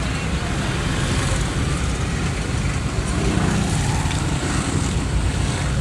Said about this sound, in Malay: Jarang-jarang terlihat di dunia pesawat mainnya di darat.